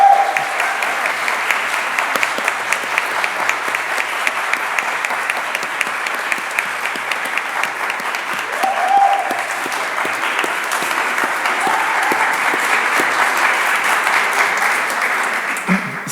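Sustained audience applause fills an award ceremony hall, a dense, steady patter of many hands clapping throughout with brief voices surfacing now and then beneath it.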